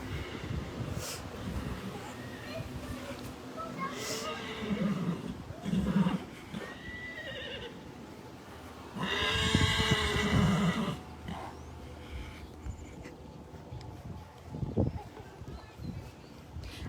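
A horse whinnies loudly a few times, long shrill neighs up close, with hoof clops and some muffled talk in between.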